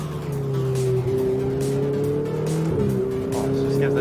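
A Ferrari 488 GTB engine roars steadily at close range, its sustained drone rising in pitch as it accelerates, with a voice exclaiming over it.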